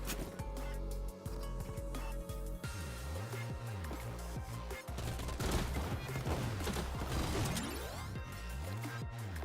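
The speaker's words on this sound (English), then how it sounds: "Assault rifle. Shoot there." Assault rifle fire in a shooter game: repeated sharp shots and bursts crack over loud, busy game sound effects and warbling tones, continuing throughout.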